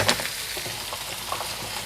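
Salmon fillet searing in a hot pan, a steady close sizzle and spatter continuing without pause and no one speaking.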